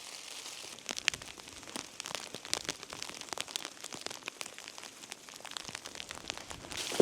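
Steady rain patters down in the Norwegian mountains near an old Land Rover, a dense, even hiss of drops with scattered sharper ticks close by, continuing without a break and with no talk.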